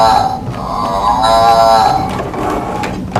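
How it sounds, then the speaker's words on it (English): A cow named Bessie moos once in a long, drawn-out, harmonic low call on a farm, fairly close and loud, with no talking over it. "That's right, the mooing noise."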